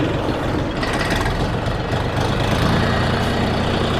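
A DTZ 354U tractor engine drones steadily and loudly while the tractor drives in reverse gear, a dense, unbroken low rumble with no voices.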